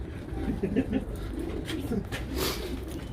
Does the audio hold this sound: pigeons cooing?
yes